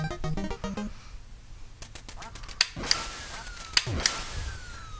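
Short electronic descending tones and bright synthetic blips from an NES light gun game, followed by several sharp accented hits with quacking, wah-like tails.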